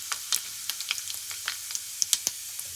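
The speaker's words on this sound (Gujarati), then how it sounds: "તેલ ગરમ થઈ ગયું છે તો ઉપરથી નાખીશું જીરું" Cumin seeds crackle and sizzle in hot oil as the stuffing for aloo paratha begins, a scatter of sharp, quick pops over a soft, faint hiss, with no voices.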